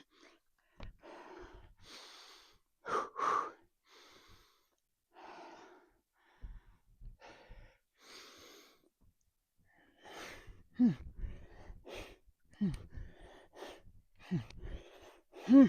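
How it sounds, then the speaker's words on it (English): Heavy, audible breathing between sets of a high-volume pull-up and push-up workout, with gasps and sighing exhales coming in uneven bursts, growing louder and more ragged toward the end. "I want y'all to notice, if you can hear it, which you probably can, my breathing"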